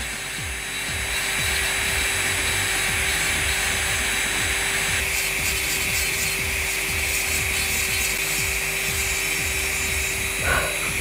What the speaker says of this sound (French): ma ponceuse elle tourne en forward.